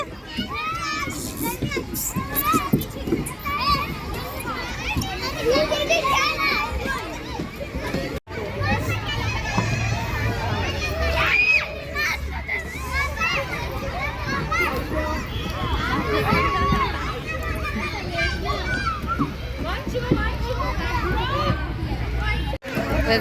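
A crowd of children plays in a garden, a dense babble of shouting, laughing and chattering kid voices filling the whole stretch, loud and close with no break.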